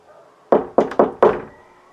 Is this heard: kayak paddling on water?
no